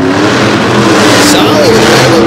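A monster truck engine revving hard on the throttle while racing out of a turn at an arena show. A loud, dense roar rises in pitch, with an announcer talking over it.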